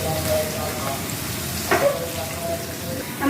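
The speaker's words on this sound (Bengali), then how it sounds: "আমি তেলের মাঝে পেঁয়াজগুলো ভেজে নিচ্ছি" Onions sizzle in hot oil for a chicken biryani, a soft, steady hiss of frying that stays fairly faint throughout, with a couple of brief clinks near the middle.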